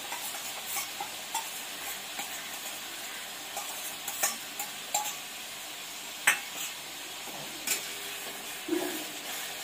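Chicken masala, Punjabi-style kosha, sautéed in a pot with coriander, cumin and Kashmiri chili powder: a steady soft sizzle broken by sharp scraping and clinking of a utensil against the pan every second or so.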